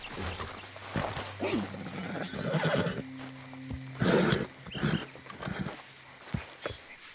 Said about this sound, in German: sieh mal da, Pferdchen